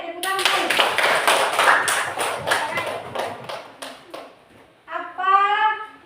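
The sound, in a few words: class applauding three groups of students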